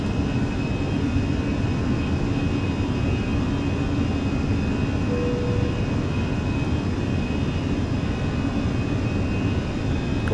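Fenix A320 airliner engines at climb power in Microsoft Flight Simulator, a loud, steady broadband roar with a constant high whine, unbroken and with no voices.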